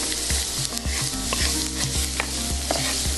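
Onion going into hot oil with popping mustard and cumin seeds, a steady loud sizzle with scraping and stirring knocks from a spoon in the pan, no voices.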